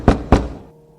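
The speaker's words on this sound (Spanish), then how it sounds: "Ambas se sobresaltaron al escuchar aquellos gritos y golpes en la puerta." Two heavy thuds land on a wooden door in quick succession, close and loud, then fade into a brief low resonance.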